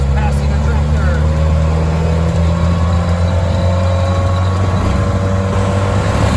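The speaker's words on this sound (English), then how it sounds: "Oxford is passing a tractor." A car engine hums steadily on an open road while overtaking a tractor, producing a continuous loud drone with a rising pitch partway through and someone talking under the noise.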